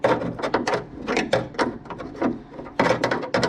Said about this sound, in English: there's another bolt right down here that we'll have to take out with a wrench. So we're going to remove this bolt right here